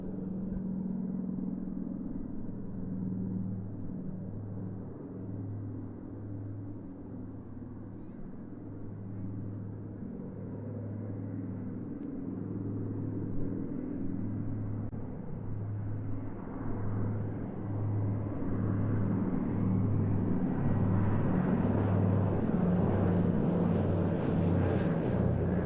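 A flying boat with its wingtip floats lowered makes a pass at the Duxford air show, a low droning engine rumble that builds steadily louder over the whole stretch, with a commentator talking over it.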